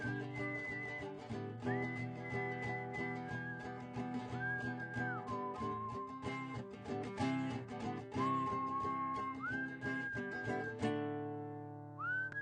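Audience whistling a melody in sliding, sustained notes over a steady musical backing at a bookstore performance, several whistlers together carrying a simple tune.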